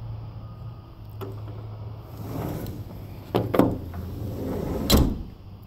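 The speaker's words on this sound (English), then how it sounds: "I can't get this door to unlock" A house door is tried and will not unlock. A faint hum gives way to handle rattles and a few sharp clunks and knocks, with the loudest jolts near the end. No voices are heard.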